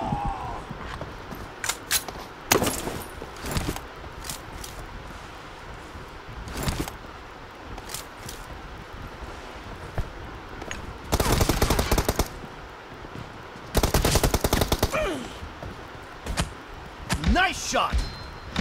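Gunfire in the mobile battle royale BGMI during a one-on-one match, with scattered single shots and sharp bursts of rapid automatic fire, loud and close, separated by quieter gaps with a voice speaking.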